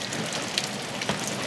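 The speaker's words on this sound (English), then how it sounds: "we're getting quite a bit of rain" Heavy rain from Hurricane Irene falls around a house on the Chesapeake, a dense, steady hiss of drops with a few sharper splashes close by.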